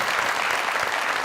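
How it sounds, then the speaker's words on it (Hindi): Steady, dense applause from a comedy show audience, loud and continuous throughout with no pauses. "तालियां भाई, जोरदार।"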